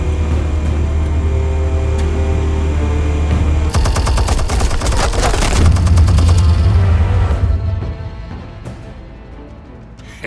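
Video game explosions and gunfire from a Batman game: a dense burst of rapid automatic shots and blasts over a low rumbling bed, loud and sustained for several seconds before fading into lingering ambience.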